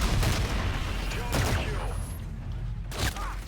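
A grenade explosion in Call of Duty: Infinite Warfare multiplayer, a loud close blast followed by bursts of gunfire and further booms, with game noise throughout.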